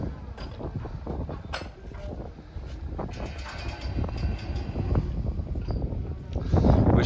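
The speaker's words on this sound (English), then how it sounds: "Wind's picked up." Wind gusts outdoors at a building site where a structure is being jacked up ring by ring, a steady broadband rush that swells and strengthens toward the end, with no talk over it.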